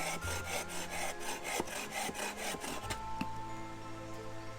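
A hand saw cuts through a wooden log to make a wood cookie at a Halloween forest school session, with steady rhythmic rasping strokes up close that turn to scattered scraping and a light knock once the cut finishes.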